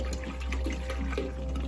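Water is poured into a toilet to make it flush, a steady close splashing and gurgling stream with no talk, set on a family beach day.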